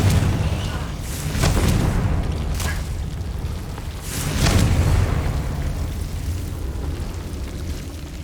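Booming spell blasts from a Hogwarts Legacy game fight, two or three loud explosive bursts rising over a constant low rumble, with game voices heard under the action.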